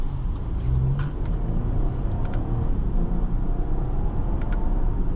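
A 2023 Audi Q8 55 Premium Plus SUV with 335 horsepower accelerates on the road, a steady loud engine rumble and road roar heard from inside the cabin with no talking.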